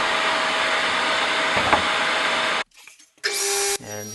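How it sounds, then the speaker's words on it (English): Table saw ripping wooden strips for a cabinet back, a loud steady whine of blade through wood for about two and a half seconds, then a quiet pause, and a brief second burst of the saw before it winds down. "And here I cut the strips for the back of the cabinet, reset my table saw to 45 degrees"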